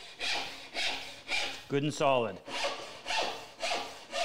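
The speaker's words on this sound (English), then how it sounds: "you can tell as soon as you hear it starting to saw, sawing on the inside" A hand saw cuts steadily through solid wood, with regular rhythmic push strokes about twice a second, close and clear; someone briefly speaks over the middle of the sawing.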